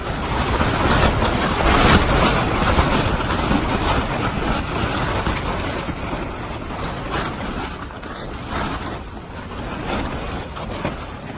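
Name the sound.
wind blowing against a tent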